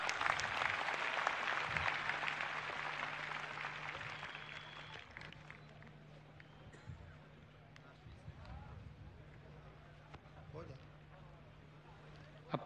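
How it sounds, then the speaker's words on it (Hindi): An audience at a scout program claps in a steady burst that stays fairly loud for several seconds, then thins into scattered claps amid murmuring voices, a low hum running throughout. "ताली अपनी- बजा।"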